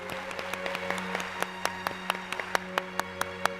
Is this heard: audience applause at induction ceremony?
yes